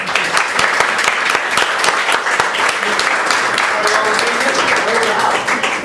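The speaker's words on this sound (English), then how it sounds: "Could you give him a round of applause, please?" Audience at a political tavern talk with congressional candidates claps in a steady, close round of applause with sharp individual hand claps throughout, lasting several seconds.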